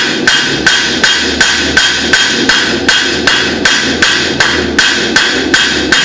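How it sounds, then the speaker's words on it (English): Steady, rhythmic blows from a hammer's peen ring out on metal against an anvil, about two strikes per second, loud and close with bright metallic clangs and no talking. "push the material using the peen of the hammer against the anvil"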